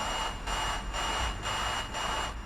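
A Renault E-Tech electric truck in Euro Truck Simulator 2 gives a steady, high-pitched motor whine with a hissy, noisy texture. The whine pulses in rhythmic swells about every half second.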